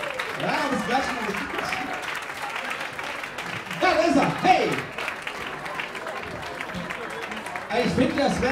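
Audience applause for a bassist at a live club band show, a steady wash of clapping and crowd noise with voices and some music underneath, swelling briefly near the middle and again at the end.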